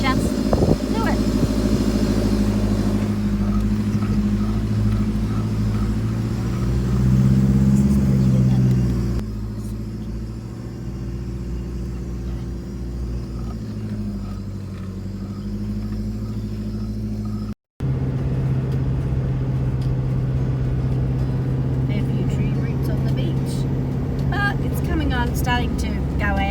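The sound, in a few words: car driving on the beach at low tide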